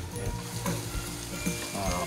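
Garlic crackles and sizzles in hot oil, a dense, continuous frying hiss as it is stir-fried, loud and close, with occasional stirring scrapes.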